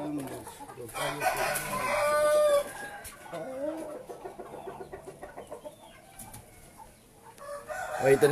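Several roosters crow and cluck inside a shed where fighting cocks are kept, layered loud and dense from start to finish, with someone speaking beneath the calls.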